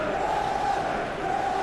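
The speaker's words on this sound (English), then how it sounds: "songs ringing down from the stands" A capacity football crowd at a Premier League match between Aston Villa and Manchester United sings in the stands, a steady, distant roar of massed voices with a sustained chant-like tone.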